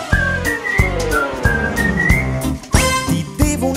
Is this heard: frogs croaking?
no